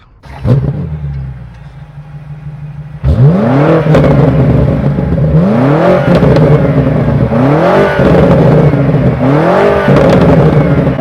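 A BMW M5's 4.4-liter twin-turbo V8 idles, then revs repeatedly in rising surges, loud and close, each rev followed by a brief dip.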